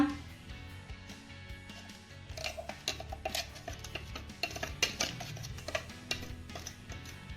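Spinach paste being scraped from a mixer jar into a cooking pot, a run of soft irregular taps and clinks of a spoon against metal, close and faint, without talk.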